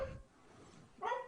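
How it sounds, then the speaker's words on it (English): Indoor dog gives a short bark or yip at the start and another brief bark about a second later, both faint and somewhat distant. "my dog is not happy."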